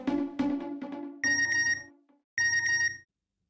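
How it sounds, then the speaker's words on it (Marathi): A telephone rings in a TV sitcom scene as two loud, close electronic ringtone bursts with a pause between them, following a short run of musical notes. "फोन."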